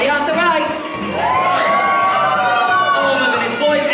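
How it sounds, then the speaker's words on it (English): A large audience of children cheers and shrieks loudly at a live show in a kids' theme park, a dense continuous roar of high voices with whoops over a steady musical backing. "I need you to cheer as loud as you can"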